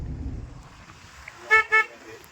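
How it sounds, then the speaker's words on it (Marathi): A car horn gives two short toots in quick succession, fairly close and clear, against the low hum of the car being driven on a village road during a Holi trip. "परशा भाऊ गाडी चालवत आहेत"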